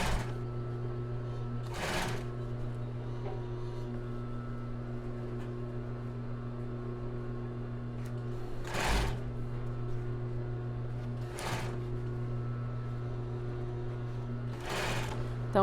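Sewing machine stitching steadily around the back of a cross-back bra base, a continuous close motor drone broken by a few brief louder bursts.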